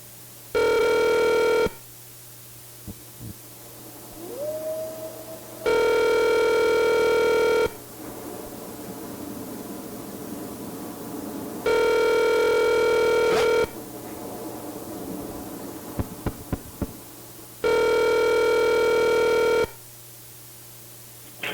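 A phone ringtone sounds four times in long, evenly spaced bursts of several seconds each, loud and clear, with quiet gaps holding faint clicks and a brief rising tone between rings.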